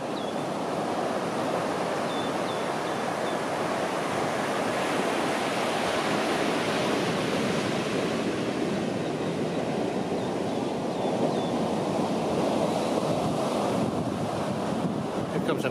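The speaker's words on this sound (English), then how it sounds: "These waves are starting to build a bit." Ocean surf breaking steadily on Zicatela Beach in Puerto Escondido, Mexico, a popular surfing spot, with continuous loud wash of waves and wind buffeting the microphone throughout.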